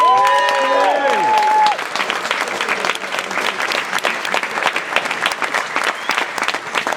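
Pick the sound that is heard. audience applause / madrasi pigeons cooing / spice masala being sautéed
audience applause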